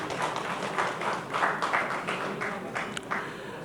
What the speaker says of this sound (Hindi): तालियों के साथ मैं चाहता हूं मांझी जी का स्वागत किया जाए।